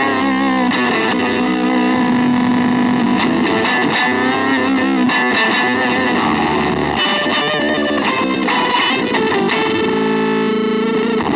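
A Glitch Witch auto-modulated logic fuzz pedal in its unstable voice setting, with little gating, churns out a loud, continuous stream of glitchy, distorted tones that jump and shift erratically, with no talking.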